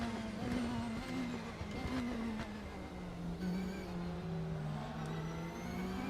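A video game race car engine, from the RaceRoom racing simulator, drones steadily at mid pitch, revving gently up and down with a whirring tone, fairly quiet and continuous.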